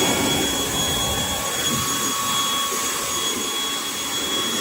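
A Milwaukee battery-powered double blower runs continuously at close range, a steady loud whooshing roar with a high whine, holding level throughout without any talk.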